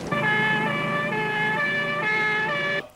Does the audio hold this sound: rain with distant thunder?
no